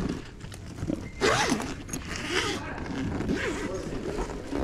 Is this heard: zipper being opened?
yes